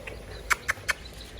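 Young chicks peep in three short, sharp high chirps spaced evenly over about a second, close by against a quiet background.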